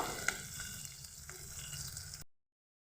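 Onions frying in a pan with a pinch of sugar added, a soft, steady sizzle with a small clink near the start, fading out before the end.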